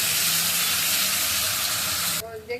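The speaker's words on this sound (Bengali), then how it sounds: "এবার তেলে দিয়ে দিব পেঁয়াজ আর কাঁচা লঙ্কা, এটাকে একবার লাল লাল করে ভেজে নেব" Onion and green chilli sizzle and hiss loudly as they fry in hot oil, a steady dense crackle that cuts off sharply near the end.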